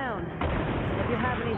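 A single loud gunshot boom in Resident Evil 6, followed by a rumbling echo, heard over dense game sound with no clear speech.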